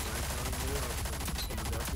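Rapid automatic gunfire from the Rogue Company shooter game, dense and continuous throughout with a busy layered mix of fast shots.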